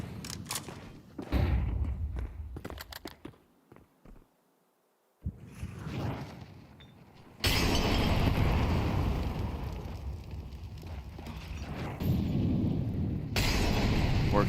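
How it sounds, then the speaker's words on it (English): A grenade detonates in a Counter-Strike match, a loud boom that cuts in after a near-silent gap and then a roaring blast wash, with scattered game noise before it. "That nade lands on his head."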